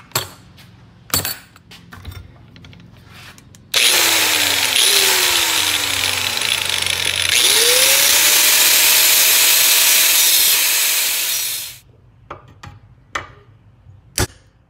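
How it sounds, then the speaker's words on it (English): An angle grinder cuts a steel short-sword blank, a harsh, loud continuous screech of about eight seconds that shifts pitch as the disc spins up and down, framed by scattered knocks and clatters before and after. "Now I'm gonna go cut that out with the angle grinder."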